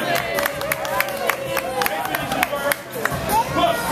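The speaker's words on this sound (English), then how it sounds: "Give him a round of applause." Crowd applause and cheering for a child at a Phineas and Ferb meet and greet, steady clapping under busy chatter and a voice speaking over it.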